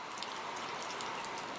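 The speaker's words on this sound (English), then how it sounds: "we got caught in a rain shower" A rain shower falls outdoors in the Lake District, a steady, even hiss of drops that stays constant and fairly soft without a break or any talking.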